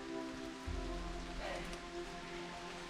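Steady rain falling in a misty rainforest, a continuous dense patter close around the listener with a brief heavier rumble of drops near the start.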